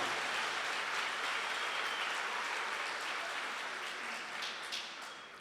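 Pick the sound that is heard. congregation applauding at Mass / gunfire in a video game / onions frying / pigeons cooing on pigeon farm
congregation applauding at Mass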